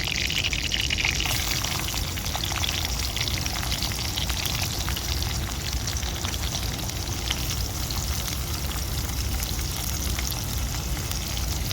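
Finely chopped onion sizzling in a pan gives a steady, close, crackling fry that keeps an even level throughout with no talk over it.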